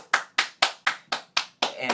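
A person claps hands seven times in a steady, quick rhythm, sharp and close, with no other sound between the claps.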